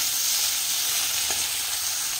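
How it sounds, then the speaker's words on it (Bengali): Close, steady sizzling of pointed gourd pieces frying in hot oil in a pan, continuous and even, with no talking. "এবার আমি পটলগুলো ভাজছি"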